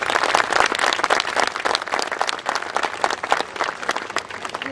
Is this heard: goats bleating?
no